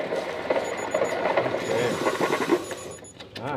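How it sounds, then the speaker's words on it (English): An espresso machine steam wand heating hollandaise sauce, giving a loud close hiss with bubbling gurgles and a few short high beeps toward the end. "when it beeped at the temperature you set, it just started to gurgle"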